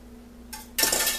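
A metal whisk clinks against a mixing bowl. A brief, light tap comes first, then a bright, busy run of rattling clinks that lasts to the end. The sounds are close and alone, with no talking.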